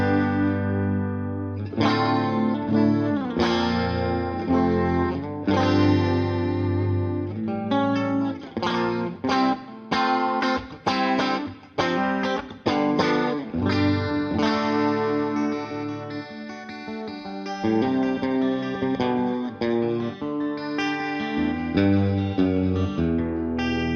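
Electric guitar played through a neutral clean channel with chorus in Neutron XL amp modelling, strummed chords and picked notes ringing with a shimmering, lush tone, continuous and alone.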